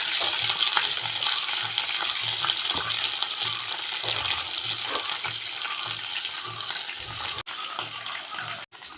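Green chillies and onion fry in a pan with a loud, close crackling sizzle and stirring scrapes that stay steady. The sound drops out in two brief gaps near the end, and no one talks.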